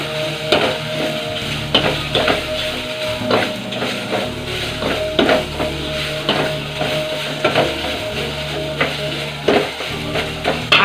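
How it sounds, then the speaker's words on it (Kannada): A spoon repeatedly scrapes and stirs okra chutney ingredients frying in a pan, with irregular strokes over a soft, continuous sizzle and no speech. "ಮಿಕ್ಸ್ ಮಾಡ್ತಾ ಇರಿ, ಯಾಕಂದರೆ ಕೆಳಗಡೆ ಅಂಟ್ಕೊಳ್ಳುತ್ತೆ"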